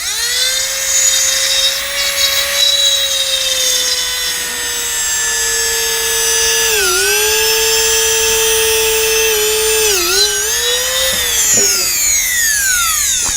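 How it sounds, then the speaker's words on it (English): A dental drill with a Fisher burr bores a hole through a Hawley retainer, its high whine sustained and loud, dipping briefly in pitch as it bites, then winding down at the end. "I'm going to use this Fisher burr here, and I'm going to drill a hole through it."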